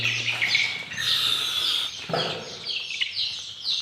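High-pitched peeping of many small chicks, some only four or five days old, a continuous chorus of chirps at close range with a brief low hum at the start.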